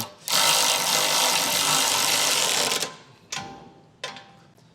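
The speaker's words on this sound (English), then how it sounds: "So we'll use a 13mm socket to snug these down." A 13mm socket on a power driver snugs down Curt trailer hitch receiver bolts on a 2023 Dodge Hornet, a loud continuous whir for about two and a half seconds followed by two short bursts, with no talking.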